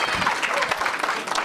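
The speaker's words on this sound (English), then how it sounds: "Round of applause." Applause from guests at a wedding rehearsal party, a steady dense wash of many hands clapping that holds throughout, with faint voices mixed in.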